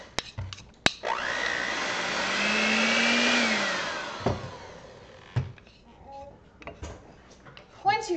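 A kitchen blender whirs loudly for several seconds while mixing strawberry shortcake batter, its motor pitch rising and then falling as it winds down. Then come clattering knocks and a voice.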